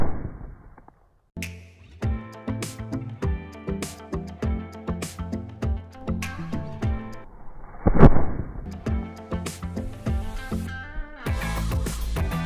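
Aloo bomb firecrackers burst during Diwali in a rapid string of sharp, loud bangs, each cracking report ringing out briefly, with a heavier blast near the middle and crackling continuing to the end.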